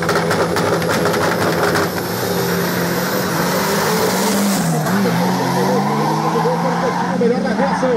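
A turbocharged Volkswagen Passat drag racing down the strip, its engine roaring loud and continuous with a rising pitch as it accelerates, while an announcer talks excitedly over it.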